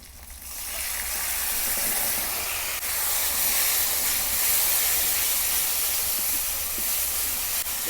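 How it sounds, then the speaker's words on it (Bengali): Tomato paste added to ginger and garlic frying in a pan for chana masala, a loud, continuous sizzling hiss that starts sharply and holds steady, close and alone without talk. "আদা রসুন দিয়ে ভালো করে কষিয়ে নিয়েছি, এর মধ্যে টমেটো বাটাটা দিয়ে দেবো।"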